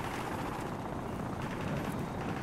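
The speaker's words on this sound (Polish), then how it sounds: "Pan helikopter już się zbliża." Helicopter in the Call of Duty: Modern Warfare Remastered video game, a steady, dense rotor and engine roar filling the whole clip at constant loudness, with no one talking.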